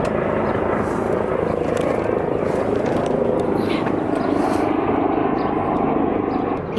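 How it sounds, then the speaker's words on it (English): A helicopter flies overhead outdoors, a loud, steady broadband rotor and engine roar that holds for several seconds with faint talk beneath it. "He came to see the helicopter."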